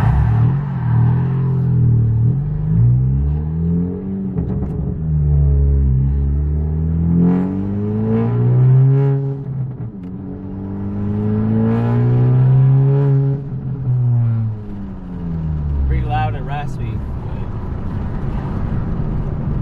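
A loud 10th-generation Honda Civic Si exhaust with no muffler revs up and down in repeated long, throaty pulls, rising and falling in pitch, close and continuous with no talking.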